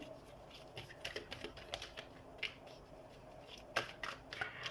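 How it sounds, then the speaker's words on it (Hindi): Tarot cards shuffled by hand in a quiet room, a soft steady run of papery riffles and flicks with a few sharper snaps, close and fairly faint. "तो हम सबसे पहले कार्ड शफल कर लेते हैं।"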